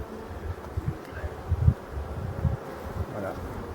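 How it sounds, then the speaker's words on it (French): Black honeybees at an open hive, giving a close, low, continuous buzzing hum with small swells as individual bees pass near. "Typique abeille noire."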